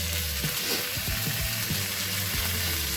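Steady hiss and crackle of chicken pieces frying in hot oil, with soft clinks of stirring or utensils scattered throughout, close up.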